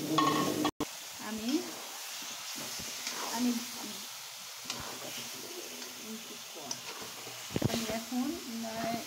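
About 1.5 kg of beef frying in a pot with ready-mix tehari spice while being stirred, a soft steady sizzle with faint scraping and clatter throughout, under someone speaking Bengali, with one sharp knock near the start.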